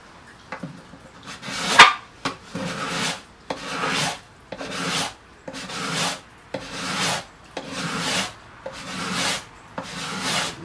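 Repeated rasping strokes as the wooden body of a Trigger 2 guitar is scraped and sanded by hand, about a dozen even, rhythmic passes heard close up without talk.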